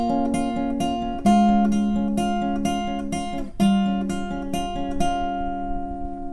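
Acoustic guitar playing the second pass of a song's picking riff, with plucked notes ringing through changing chord shapes and cutting off early before a final note decays. It is close and played solo.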